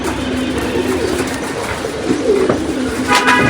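Pigeons kept for racing coo softly and continuously at a loft, with a steady low hum and faint background noise running throughout.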